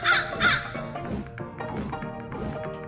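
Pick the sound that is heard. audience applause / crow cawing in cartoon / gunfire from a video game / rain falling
crow cawing in cartoon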